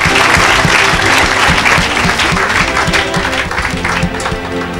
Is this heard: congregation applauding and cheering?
yes